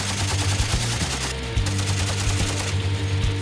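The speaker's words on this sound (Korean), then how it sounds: "이번에는 K6 기관총 사격." K6 heavy machine gun firing 12.7mm rounds out over the open sea from a naval vessel, a loud, continuous rapid burst of automatic fire with rhythmic thumps and no talking.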